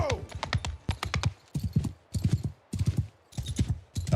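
Horse hooves clip-clopping in the video game Old Realms, rapid clustered bursts of hoofbeats in an uneven galloping rhythm, close and fairly clear with short gaps between groups.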